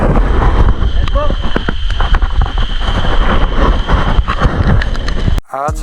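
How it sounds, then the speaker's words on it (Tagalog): Steady, heavy wind roar from a tropical depression on the coast at Caramoan, buffeting the microphone throughout, with broadband rumble and gusts, ending in a brief dip and a short burst of noise. "malakas ang hangin eh."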